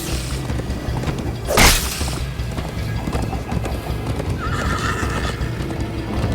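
A horse's hooves clatter in a steady galloping rhythm in the video game Minecraft: Story Mode, with a loud whoosh and a whinny rising over the game soundscape.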